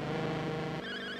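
A buzzy 8-bit engine roar from an NES racing game on a Dendy console holds steady, then shifts pitch partway through, a continuous synthesized drone.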